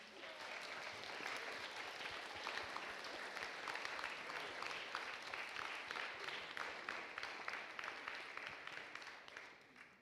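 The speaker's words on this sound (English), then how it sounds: "let's go for a big clap for the United States of America" A crowd applauds at a Model UN closing ceremony, a continuous rush of many clapping hands at moderate distance, steady throughout and easing slightly at the very end.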